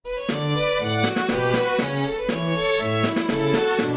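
Bright Game Boy-style 8-bit chiptune with a bouncing bass line and square-wave melody, steady and upbeat, playing alone with no voices.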